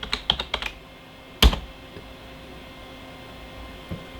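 A handful of quick keystrokes clatter on a computer keyboard being used for a Windows 95 setup, followed by one sharper key press and then near silence with a faint hum.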